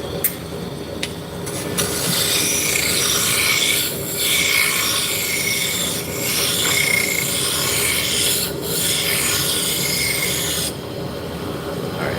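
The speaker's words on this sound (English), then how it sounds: "So we were using a roughing gouge to bring it down." Spindle of wood being roughed down on a lathe with a roughing gouge, making a continuous loud rasping, rubbing scrape that runs almost without a break and drops off near the end.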